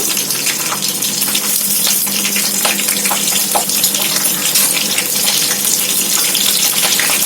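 Green chilies frying in hot oil give a steady, dense sizzling hiss with crackles, close and constant throughout, with no talking.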